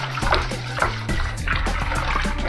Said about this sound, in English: we're going to do a nice vigorous stir here.